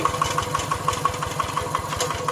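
A Kubota ET95 tractor engine runs in second gear with a rapid, steady knocking thump repeating several times a second, loud and close.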